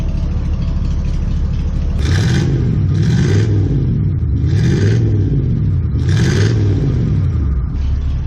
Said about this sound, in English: It's nice to be able to sit in the car and hear the exhaust behind me